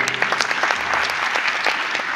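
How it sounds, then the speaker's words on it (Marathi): An audience claps steadily and densely, a loud wash of many hands at a Marathi speaking event, sustained without a break. "तिच्याकरता जोरा टाळ्या वाजवा"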